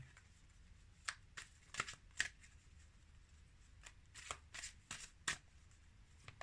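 Tarot cards are shuffled by hand in quiet surroundings, a run of crisp riffling bursts and soft snaps spaced irregularly, faint and close with no talk.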